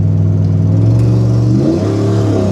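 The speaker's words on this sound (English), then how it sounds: "The truck is running so good." A truck engine revs loudly and close, a strong, steady low drone that shifts pitch as the throttle changes partway through, with no talk over it.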